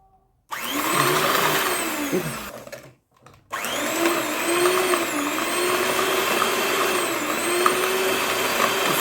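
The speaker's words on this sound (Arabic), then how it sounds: "ونضرب بقى كل ده مع بعض" An electric blender whirs loudly as it beats sugar and vanilla, starting abruptly, cutting out briefly, then running again at a steady high-pitched drone.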